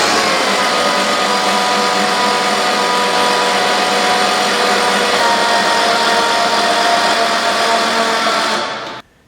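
Electric lifting mechanism on a Flagstaff 228 tent trailer raising the roof, a loud steady motor whir that holds constant for about nine seconds and then cuts off abruptly.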